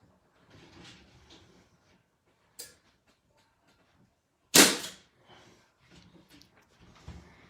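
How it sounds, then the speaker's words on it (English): Staple gun fires into a hutch door while chicken wire is fastened, one sharp loud snap standing out amid a lighter click and quieter handling noises nearby. "Just pop the staple in."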